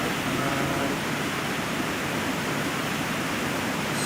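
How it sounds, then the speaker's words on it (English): A waterfall in the Dark Souls 2 video game rushes as a dense, steady, loud roar of falling water, unbroken throughout. "the particles and sound from the waterfall are causing the flames to drop"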